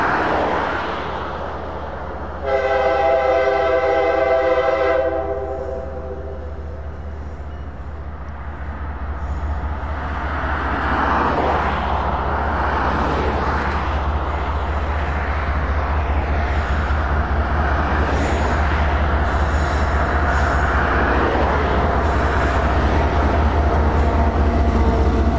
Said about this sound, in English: I was able to get the whole train in the shot at the end, just north of this private crossing